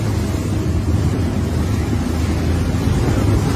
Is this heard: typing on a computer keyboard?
no